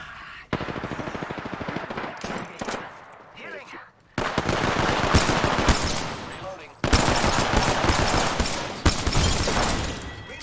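Rapid automatic gunfire in a shooter video game, dense bursts of shots in several stretches separated by short pauses, loud and close with a voice talking over parts of it.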